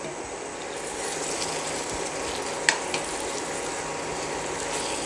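Sweet pumpkin halwa stirred in a pan, with a steady soft sizzle and broadband frying hiss throughout and a couple of brief scrape clicks near the middle, close and moderately loud with no talking.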